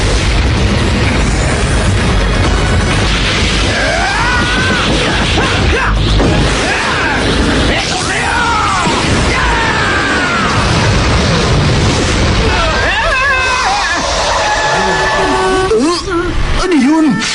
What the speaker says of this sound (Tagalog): May tinetesting na namang sobrang laki ng paputok sa Capsule Corporation!